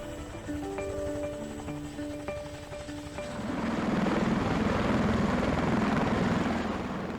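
Rotor thump and engine roar from a CH-47 helicopter swell steadily, first mixed with tonal music and then taking over, sounding fairly distant and sustained.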